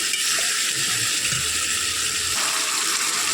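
A paste of ground cumin, ginger and dried red chilli sizzles and spits in a pan for potol chingri, a steady close hiss with faint stirring scrapes, no talking.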